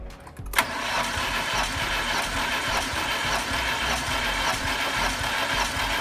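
VAZ-21099 car with a misfiring cylinder: the engine cranks and catches in a sharp burst, then settles into a rough, uneven idle that drones steadily and close by.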